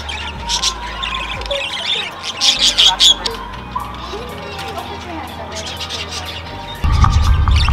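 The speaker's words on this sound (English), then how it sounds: "I like the birds." Pet-store birds chirp and squawk in bursts, loud at times, amid a busy indoor hum, with people talking and a low thump near the end.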